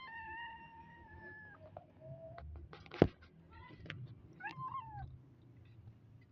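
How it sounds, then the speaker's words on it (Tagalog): Stray cat meowing outdoors, a few short rising and falling calls in the middle of the stretch over a low background hum, with one sharp knock partway through. "Dito mayroong stray cat din dito."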